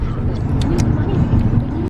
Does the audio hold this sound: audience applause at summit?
no